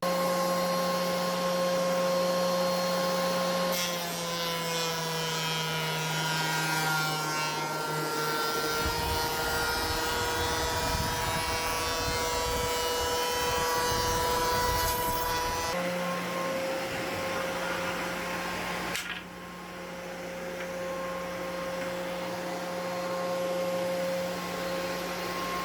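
A wood planer runs continuously as it machines a wood surface, a loud sustained whine with a steady hum, its pitch and load shifting midway as the cut engages, with no talking.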